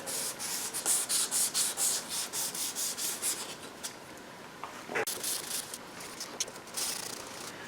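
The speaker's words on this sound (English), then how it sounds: "It's going pretty slow and clogging the sandpaper." Sandpaper rubbed by hand over paint runs and sags on a freshly painted car bumper, a steady rhythmic back-and-forth rasp of about a dozen close strokes, then slower, scattered scrapes with a few sharper scuffs.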